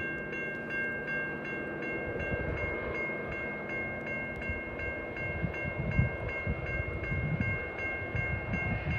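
CN 373, a freight train led by an SD40 locomotive, rumbles past steadily with continuous wheel and engine noise and a faint repeating high squeal or ring throughout, fairly close.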